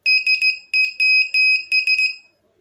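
Homemade telegraph buzzer keyed in short and long pulses, a bright, piercing electric tone sounding in an irregular Morse-like rhythm, close and clear, then stopping.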